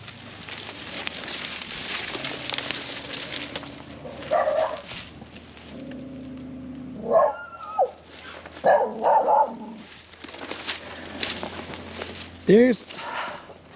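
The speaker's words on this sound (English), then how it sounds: "There are wild dogs living in the bridge." Wild dogs living in a bridge bark in short bursts at a moderate distance over wind and background rumble, with a few yips and whines scattered through.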